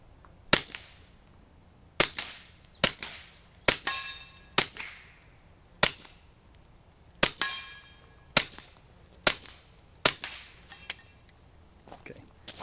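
About a dozen gunshots crack out one at a time at irregular intervals, each sharp and loud with a short echoing tail, until firing ends, with near silence between shots.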